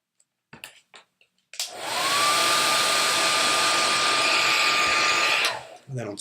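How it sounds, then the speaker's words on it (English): A hair dryer blows hot air onto an iPhone skin wrap, switching on with a loud, steady whine and airy rush for about four seconds before cutting off, with brief voices before and after. "don't burn yourself on a hairdryer"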